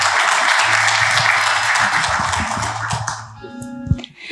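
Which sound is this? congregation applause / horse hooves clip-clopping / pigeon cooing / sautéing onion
congregation applause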